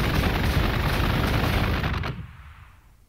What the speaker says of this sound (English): Tactical Marines, just take that back for us and open fire.